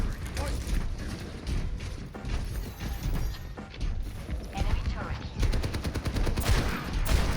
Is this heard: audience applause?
no